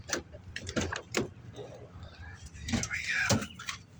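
A car door is unlocked and opened, with sharp clicks and clunks, a latch release and a creaking swing up close, while someone talks in between.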